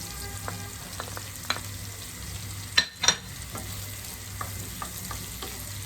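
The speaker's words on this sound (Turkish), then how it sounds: "Biraz sosislerle de kızaracak." Peppers and sausages sizzle steadily in a frying pan with a soft, even crackle, a couple of louder clatters from stirring near the middle, and no voices.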